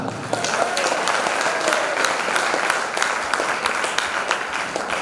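Sustained applause from an audience at a Hindi poetry gathering held at a Jain temple, dense steady clapping filling the whole stretch with faint crowd murmur beneath.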